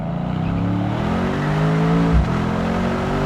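A Mercedes-AMG C63S W205 engine runs with the roof open, a loud, continuous deep rumble that climbs slowly in pitch as the car accelerates, with a brief thump near the end.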